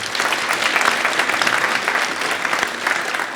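Applause from a university graduation ceremony audience, a loud, dense and even burst of many hands clapping, sustained without pause across the whole moment.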